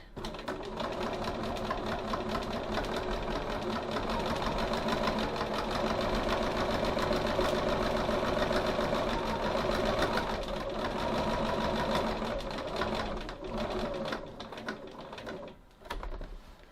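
A sewing machine runs in a steady, rapid stitching burst across the bottom of a fabric pocket, close and continuous for most of the stretch before slowing and stopping near the end.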